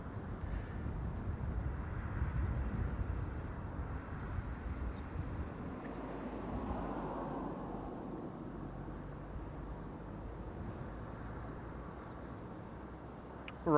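Broad rumbling roar of a Boeing 737 at Amsterdam Schiphol Airport, steady and fairly distant, swelling slightly midway with wind-like noise and no talking.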